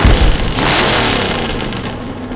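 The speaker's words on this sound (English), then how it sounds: "Please tell me you're not just sitting there revving the engine." An animated car's engine revs in a parking lot, a loud low rumble that swells into a brief throaty roar and then settles back toward a steady idle, heard alone.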